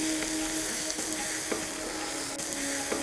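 Onion, green chilli and coriander leaves sizzle and fry in a pan for chicken kurma, a steady close hiss broken by a few soft scrapes of stirring, with no talk.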